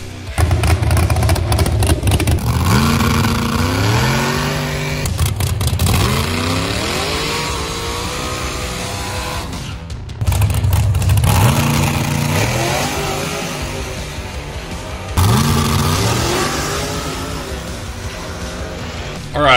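A loud truck engine revs repeatedly, each roaring climb in pitch falling away before the next, over about twenty seconds without speech.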